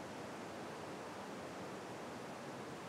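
River San Antonio water splashing and churning over rocks in a canyon at Támesis, Antioquia, heard as a steady, even broadband rush with no breaks and no voices, fairly faint.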